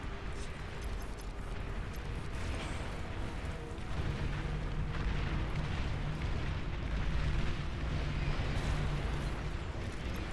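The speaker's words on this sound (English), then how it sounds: "There's random rockets just spewing across" Rockets and explosions in the RTS game Beyond All Reason form a constant, dense rumble of blasts and launches, a thick roaring wall of battle noise with no clear pauses.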